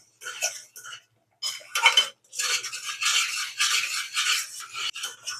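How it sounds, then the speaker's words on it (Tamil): A spoon scrapes and stirs thick masala gravy in a pan, producing repeated rasping metallic strokes in bursts with brief pauses, close and fairly loud without speech. "இந்த மாதிரி கொஞ்சம் நேரத்துக்கு வரைக்கும் நம்ம கிண்டி கிண்டி கொடுக்கணுங்க"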